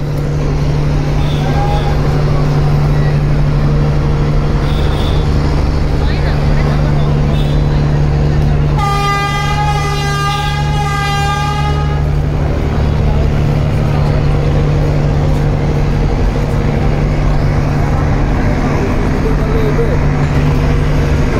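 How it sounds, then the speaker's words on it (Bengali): Engine rumble of the passenger launch Kuakata 2 running in reverse as it departs Barisal, a steady loud low drone throughout, with a brief rising harmonic whine midway and a voice talking over it. "ব্যাক গিয়ার দিয়ে দিল কুয়াকাটা 2 লঞ্চ"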